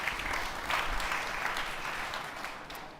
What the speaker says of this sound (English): So, applause for Chris.